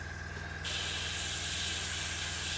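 Airbrush spraying white paint onto the rear canopy of an Airfix 1/48 North American P-51D model, a continuous airy hiss that jumps brighter and louder partway through and then holds steady, close and alone.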